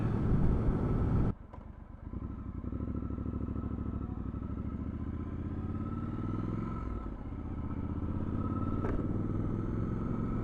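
A Triumph 1200 Scrambler XE motorcycle with a fitted screen riding on the road, its engine a continuous droning rumble under wind noise, a loud burst at the start and then a steady cruise.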